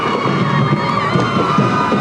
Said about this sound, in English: You can still hear that crowd